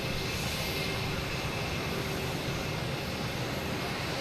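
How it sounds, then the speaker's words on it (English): Broadband jet roar of a Boeing 777 airliner taking off from runway 22 right at Boston Logan, steady and sustained throughout, heard from a distance with a constant rushing wash. "flight 108, taking off on 22 right"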